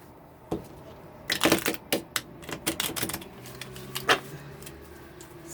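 Tarot cards are shuffled in a quick, uneven run of crisp snaps and riffles, heard close and alone in a quiet room.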